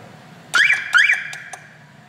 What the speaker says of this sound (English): And you can hear a siren.